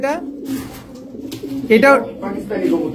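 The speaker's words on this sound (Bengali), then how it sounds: "এটাও পাকিস্তানি কবুতর।" Pakistani pigeons coo in low, throaty bursts, close by, with a louder rolling coo partway through.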